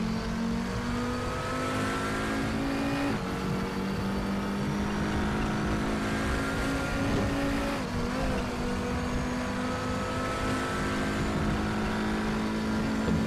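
An Audi TT RS race car laps the Nordschleife in the RaceRoom racing game, its engine droning loudly and steadily, pitch rising through the gears with brief dips at the shifts.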